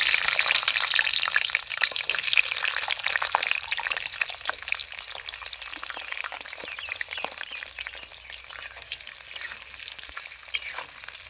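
Quartered onions hitting hot oil and frying steadily, a dense, continuous crackling sizzle, close and loud throughout with tiny pops scattered across it.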